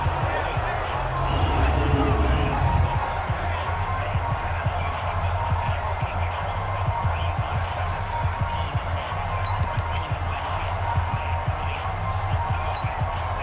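Stadium crowd noise in Madden NFL 20 at a Jacksonville Jaguars at Houston Texans game, a steady broad roar that swells early and then holds at an even level, with a commentator's voice mixed in throughout.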